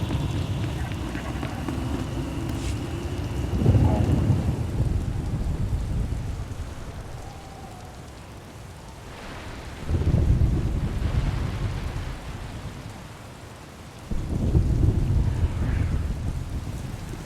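A thunderstorm with steady rain plays out in the video game SW:TOR, heavy downpour hissing continuously while three deep thunder rumbles roll in at intervals, each swelling and fading over a couple of seconds.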